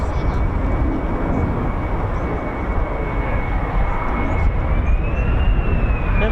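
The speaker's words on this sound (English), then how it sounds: "Never seen the afterburners on a low approach. It's amazing." An F-15 or F-35 fighter jet makes a low approach over RAF Lakenheath with afterburners lit, a loud, steady, continuous roar with a rising whine near the end.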